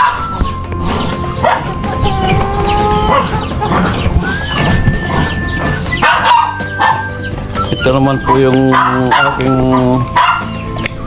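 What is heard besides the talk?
fighting rooster clucking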